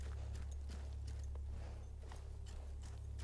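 Rhythmic clip-clop of a horse's hooves on a hard surface in the video game Battlefield 1, quiet and steady, over a low constant hum.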